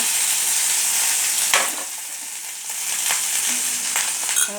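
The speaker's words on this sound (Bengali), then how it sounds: "পরিমাণ মতো হলুদ গুঁড়ো নিয়ে এবার মশলাটাকে আমি একটু ভালো করে কষিয়ে নিচ্ছি" Spice paste of coriander powder, cumin paste, ginger paste and turmeric frying in a pan with a little water for a vegetarian aloo dum, a dense hissing sizzle with an occasional stir.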